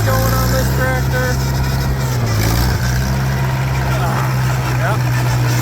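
A Farmall 504 tractor raking hay, its engine running with a steady low drone and its hydraulic pump going, while someone talks over the noise.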